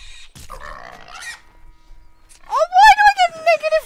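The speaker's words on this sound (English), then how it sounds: "Rep for killing a pig." A pig in Red Dead Redemption 2 grunts and squeals loudly in rising, wavering bursts, heard alone without talk.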